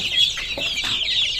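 Aseel chicks close by give rapid, high-pitched clucking and peeping in a busy overlapping chatter, fairly loud and continuous.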